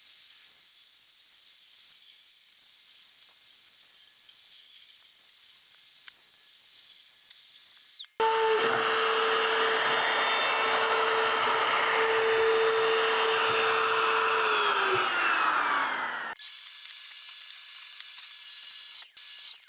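A router fitted with a bit and guide bushing cuts out a wooden jig for cornhole boards, a loud whining motor with a sustained high tone that drops in pitch under load, then eases back.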